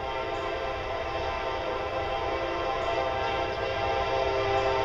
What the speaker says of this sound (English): doesn't the Kansas City Southern Railroad know I'm trying to do a beer review out here?